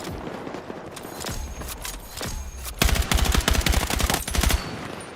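Gunfire in a video game comes in a short burst, followed by a longer, loud, rapid run of automatic shots.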